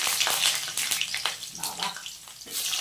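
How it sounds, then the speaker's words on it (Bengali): Potatoes frying in a pan give a loud, crackling sizzle with bursts of hissing spatter that swell and ebb over a few seconds. "একটুখানি আলুগুলোকে ভেজে নিই।"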